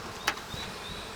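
Honeybee swarm at an opened, perforated hive with smoke puffed in from below, giving a faint, steady insect buzz with one brief louder burst early on and no talking.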